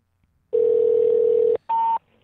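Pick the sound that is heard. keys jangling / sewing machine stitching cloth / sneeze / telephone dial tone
telephone dial tone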